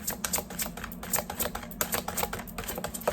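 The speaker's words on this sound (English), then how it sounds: "These are so hard to shuffle." Oracle cards that are stiff and hard to shuffle are riffled and shuffled in quick, steady, close-up flicks that run without pause and without talk.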